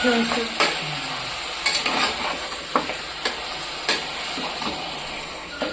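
Village-style mutton curry stirred in a metal pot, giving repeated scraping and clinking strikes against the vessel over a steady low sizzle, close and fairly loud.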